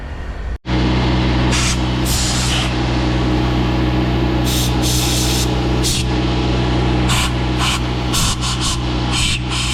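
Compressed air hose blasting grime and old gasket crud off a 2016 Harley-Davidson Street Glide Special engine gasket surface, a loud continuous hiss with repeated sharper bursts of spray throughout, close and without talk.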